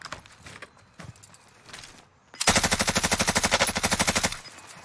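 Rapid automatic gunfire in Call of Duty Warzone rips out in a long, loud, evenly spaced burst of about two seconds, after a stretch of fainter scattered shots and footsteps.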